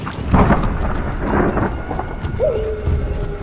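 Thunderstorm with strong winds and heavy rain: steady rainfall and gusting rush under repeated low thunder rumbles, alone without speech.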